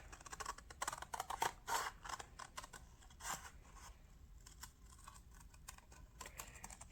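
Scissors snip through material for a mint tin craft kit in quick, faint clicks and crisp cuts, close up and quiet, with short pauses between bursts of cutting.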